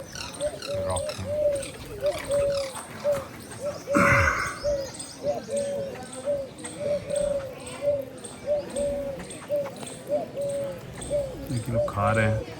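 Pigeons coo repeatedly in a steady rhythmic chorus at a feeding spot with rocks at a temple site in Gujarat, close and clear, with a person talking over the birds and a brief louder noise partway through.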